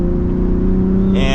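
A 2023 Ford F-150 Raptor EcoBoost accelerating, heard from inside: a steady, loud engine drone that rises in pitch near the end, with road noise underneath.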